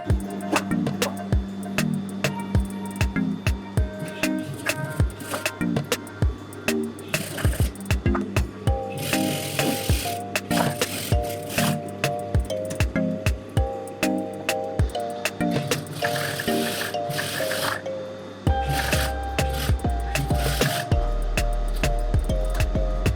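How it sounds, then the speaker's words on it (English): A sewing machine stitches a 1 cm seam joining the back and front pieces of a lazy wrap dress, running in a steady mechanical hum with rapid ticking, punctuated by clicks and handling noises, loud and close, without talk. "let's bring it over to the machine and stitch it"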